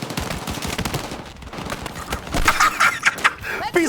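Rapid bursts of gunfire crack out in the Battlefield 6 video game, sharp repeated shots clustered near the end among other battle noise, with voices talking over parts of it.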